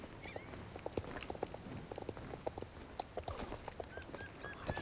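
Pony hooves clip-clop steadily across ground in the Star Stable online horse-riding game, a continuous run of close, crisp hoofbeats over a dense game ambience with occasional chirping calls.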